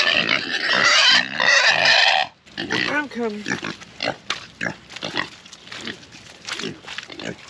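Pigs on a rainy, muddy farm grunt and squeal loudly at first, then a series of shorter oinks and snorts continues close by, with a person speaking briefly among them.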